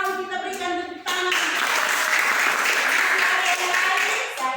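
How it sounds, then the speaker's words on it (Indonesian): A classroom of students breaks into a burst of applause for a classmate, loud and sustained clapping that fills the room after a brief spoken prompt from the teacher. "Bagus sekali, kita berikan tepuk tangan."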